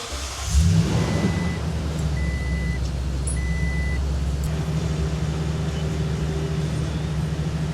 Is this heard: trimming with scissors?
no